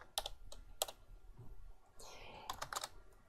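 Password being typed on a computer keyboard at a robot's control terminal in a laboratory: bursts of sharp, close key clicks in quick clusters, with a brief pause and a soft whoosh between them.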